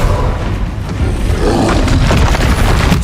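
An Incendio fire spell cast in the video game Hogwarts Legacy erupts as a loud, booming roar with dense thuds, sustained at close range for several seconds.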